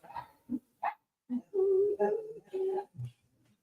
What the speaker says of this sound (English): I don't know what's wrong with that dog.